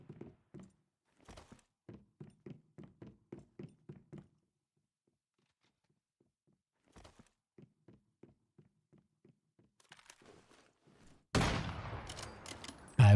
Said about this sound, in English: Stop wrecking me with the AK,